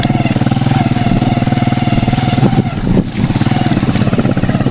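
Motorcycle engine droning steadily and close on a bumpy village road in Zambia, with a few jolts and rattles from the rough surface partway through.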